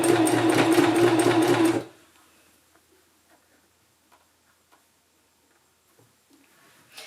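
A sewing machine stitches down the elastic waistband of a skirt, running in a fast close whirring burst for about two seconds before stopping, followed by faint handling sounds.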